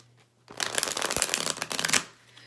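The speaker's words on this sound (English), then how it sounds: "So if you're doing the riffle shuffle or the whatever, the casino shuffle" Tarot cards being riffle shuffled, a quick burst of dense fluttering card slaps building to a final snap, close and loud with no talking.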